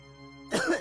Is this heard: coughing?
yes